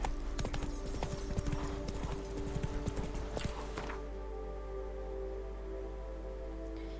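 In The Witcher 3, a horse's hooves beat a fast, repeated galloping rhythm for the first few seconds, then stop, leaving a low steady hum.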